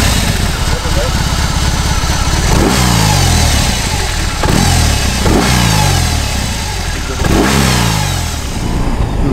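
A BMW R18 big boxer motorcycle engine revs repeatedly, each throttle blip rising and falling in pitch about every two seconds, loud and close with steady road and wind rumble underneath.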